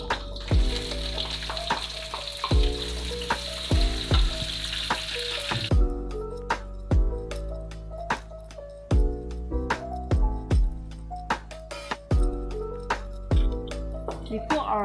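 Fish cake, sliced very thin, sizzles in oil with browned garlic while being stir-fried in a wok for Penang-style fried kuey teow; a steady loud frying hiss with repeated sharp clanks of a spatula against the wok.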